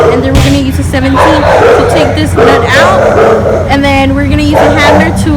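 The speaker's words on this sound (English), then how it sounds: "excuse the dogs in the background" Several dogs bark and yip repeatedly in the background while someone talks loudly over them during a wheel hub and bearing change on a 2004 Nissan Altima.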